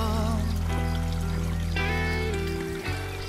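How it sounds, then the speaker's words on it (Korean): Clear mountain stream water flowing through a valley in spring, a steady close pouring and trickling rush that holds throughout, slightly softer near the end. "투명하고 맑은 물소리가 듣기 좋네요."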